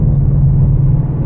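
A 2024 Ford Mustang Dark Horse with a six-speed manual, its engine droning in a steady, loud, low rumble while driving, heard from inside the car with no voices.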